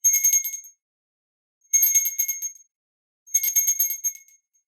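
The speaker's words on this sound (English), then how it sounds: "I'm going to ring a bell 3 times." A small bell rings three times, each bright metallic ding trailing off before a pause and the next ring.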